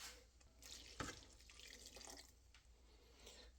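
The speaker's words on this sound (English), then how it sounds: "I'm going to fill this up with water and add water to it." Water runs from a kitchen tap into a pot, a soft continuous splash with a few brighter spurts and drips, quiet and close.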